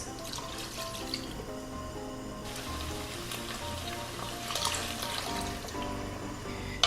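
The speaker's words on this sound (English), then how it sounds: "Pour water about 2 cups." About two cups of water poured into a pot of gochujang sauce for a Korean spicy chicken stew, a steady close splashing rush lasting several seconds with no talking.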